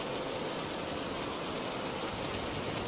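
Rain falls steadily in a village under dark clouds, a soft, even hiss of drops on surfaces with no voices, heard from a little distance.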